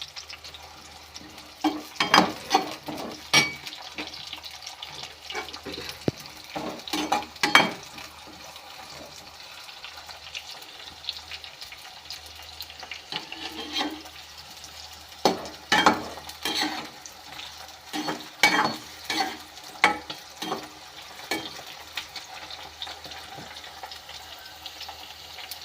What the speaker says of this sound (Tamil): இந்த எண்ணெயிலே வேகணுங்க இந்த கத்திரிக்காய்